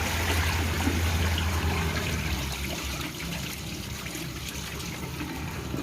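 Water poured off freshly washed wheat grain, a soft steady trickle and splash that is fuller at first, then thins to a quieter flow.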